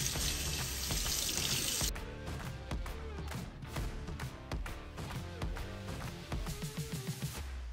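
Tap water runs hard into a sink while a hydro-dipped part is rinsed. It starts as a loud, dense rush, then turns into uneven splashing and spattering as the flow hits the part.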